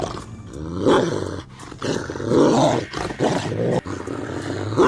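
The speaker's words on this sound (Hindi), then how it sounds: "एक काले रंग का कुत्ता उसके पीछे पड़ जाता है" A black dog barks and growls harshly while chasing, several loud, rough bursts come close together with short gaps between them.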